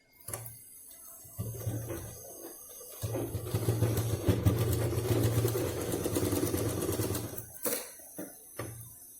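A sewing machine stitches a cloth purse in a home setting, its motor hum coming in short bursts and then one long steady run, with small clicks between stretches.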